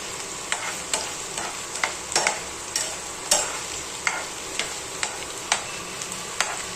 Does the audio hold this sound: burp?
no